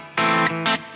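An electric guitar played through a single overdrive pedal gives three short, gritty distorted chord stabs in quick succession, close and fairly loud, with no voice.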